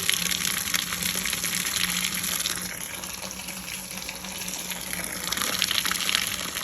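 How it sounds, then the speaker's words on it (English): Freshly boiled home-brewed beer from a brew-in-a-bag setup gushes steadily into a sanitized fermenter, a continuous close, fairly loud liquid pour with no talk. "And here comes the beer."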